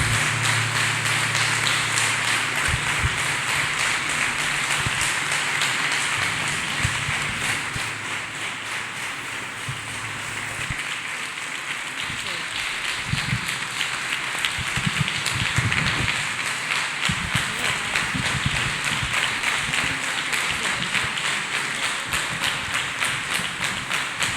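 A church congregation claps hands for Jesus, a steady dense patter of many hands running on without pause under a constant wash of room noise.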